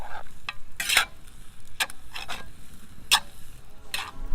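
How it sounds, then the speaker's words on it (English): Ground beef with diced tomatoes, onion and corn is stirred in a pot over a campfire, giving several brief scraping, sizzling strokes at irregular intervals over steady low background noise. "stir that all up"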